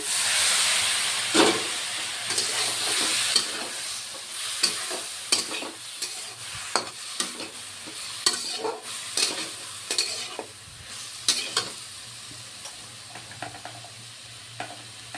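Spices frying with a little water in a pan for a spicy dry potato and long-bean curry, giving a steady sizzling hiss with repeated scraping strokes of a spoon through the mixture, close up and with no talking.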